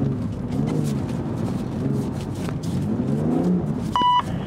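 A BMW M car drifting on a track at an M 50th-anniversary driving event: a continuous engine drone with shifting revs and tyre noise, then a short electronic beep near the end, no speech.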